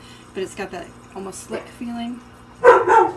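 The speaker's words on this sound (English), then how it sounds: "Excuse the dogs, I apologize." Dogs bark in a short burst near the end, loud and close, following a stretch where someone speaks about a glittery product.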